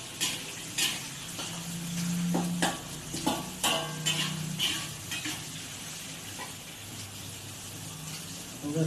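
Onion frying in a pan, a soft sizzle beneath irregular scraping stirs and a few clinks of a utensil on metal, fairly quiet and close.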